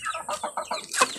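A chicken clucks in a quick series of about half a dozen short, close calls, ending on a slightly louder, sharper note, with no talk.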